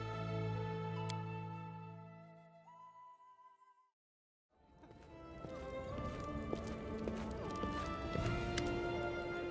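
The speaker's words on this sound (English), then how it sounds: "Saddled horses neigh and stomp their hooves." Saddled horses in the video game Pathfinder: Kingmaker neigh and stomp, with steady clip-clop hoofbeats and whinnies, then a brief silence before the hooves and snorting resume at close range.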